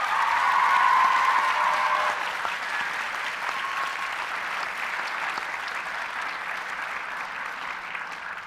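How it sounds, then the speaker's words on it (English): A graduation audience applauds the school staff with sustained, even clapping that is strongest at first and then settles into a steady, slightly softer patter. "Ladies and gentlemen, please join me in a round of applause for the staff of Middle College High School."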